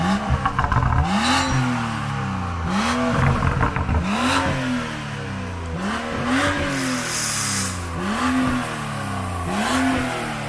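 Straight-piped BMW M235i exhaust revving repeatedly in a steady rhythm, each loud rise and fall of the engine close by and punctuated by sharp pops and bangs on the overrun.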